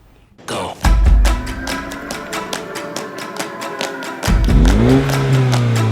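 A turbocharged 2.0-litre four-cylinder Mini Cooper engine revs up hard and loud, then drops briefly before surging again in a second close acceleration, with no talk.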